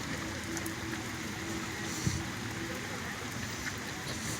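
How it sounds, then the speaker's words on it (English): Rain falling during the Broad Street Run, a steady soft hiss of drops on pavement with a brief splash partway through, fairly faint and without talk. "But it's raining."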